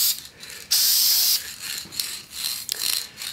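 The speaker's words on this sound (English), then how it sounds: "we're going to use this spray, brown, walnut medium brown spray" A can of medium brown walnut spray paint hisses in short, close bursts, with one longer sustained spray among several brief puffs and no one talking.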